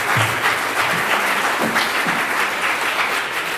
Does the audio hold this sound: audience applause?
yes